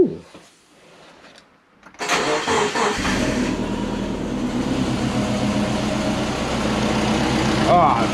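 A sleeper-built Subaru engine cranks and catches on its first start, then settles into a steady, rumbling idle that grows slightly louder, with a person talking over it.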